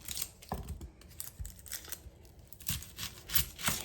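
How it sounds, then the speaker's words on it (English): A knife slices a red onion on a board, producing crisp, crunchy cuts and light taps in an uneven rhythm, close and fairly quiet. "now we're going to cut our red onion."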